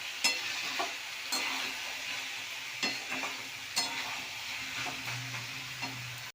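Potatoes frying in oil, a soft steady sizzle with occasional scraping stirs of a spatula against the pan, fairly faint and without talk.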